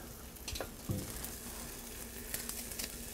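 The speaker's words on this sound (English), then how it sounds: "I'm going to cook this for about a minute longer just to cook that garlic lightly" Italian sausage and freshly crushed garlic sizzle quietly in a pan, a low steady frying hiss with a few faint clicks of stirring, no voices.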